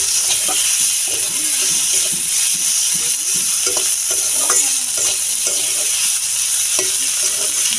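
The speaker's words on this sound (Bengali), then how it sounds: "এবার ম্যারিনেট করা মাংসের টুকরোগুলো এখানে দিয়ে দিলাম" Marinated chicken pieces sizzling loudly in a pan for chicken pasta, a dense continuous close-up hiss with soft stirring and scraping knocks throughout.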